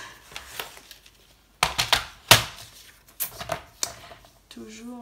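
Paper is cut for a scrapbook mini-album with a few sharp, crisp snips and thunks, a clustered run in the middle, and a voice comes in briefly at the end.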